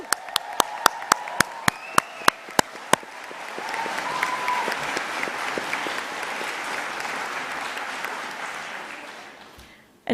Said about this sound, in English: please give yourselves a huge round of applause and a huge cheer